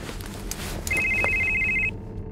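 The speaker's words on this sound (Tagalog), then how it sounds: "Nanggagaling ang ringtone sa bag kong itim" A cellphone ringtone sounds from inside a black bag: one steady, bright electronic tone holds for about a second, moderately loud over a low background hum, then cuts off.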